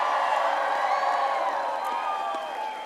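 Rally crowd in Florida cheering and whooping steadily throughout, a dense mid-range roar with occasional higher shouts, fairly loud and continuous, fading slightly at the end.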